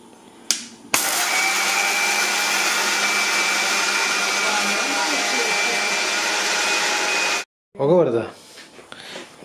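A kitchen mixer grinder switched on for grinding horse gram idli podi, a loud steady motor whine and grinding roar that starts abruptly, runs continuously for several seconds, then cuts off before brief speech.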